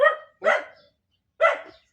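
A dog barks three times nearby, sharp separate barks with short gaps, the last after a longer pause.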